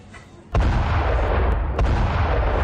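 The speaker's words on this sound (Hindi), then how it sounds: "हाइफा में गाजा की ओर से दागे गए रॉकेट।" Rockets fired from Gaza strike Haifa: a sudden heavy blast breaks in, then a continuous loud roaring rumble follows, with a second thump partway through.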